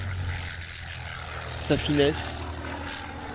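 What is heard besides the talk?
Dewoitine D520 propeller aircraft engine in virtual airshow video game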